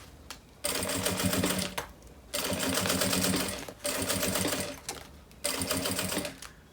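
Sewing machine stitching the pleats of a fabric pouch, running in four sustained bursts of rapid mechanical whirring separated by short pauses, close and clear with no speech.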